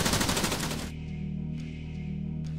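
Automatic gunfire in the military shooter Arma 3, a fast rattling machine-gun burst lasting under a second, then a steady musical drone with faint scattered sounds.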